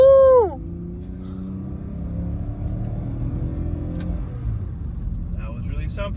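A BMW E46 325i, misfiring, winds down from a high rev after hard acceleration in sport mode, then cruises with a low, uneven engine rumble; voices come in briefly near the end.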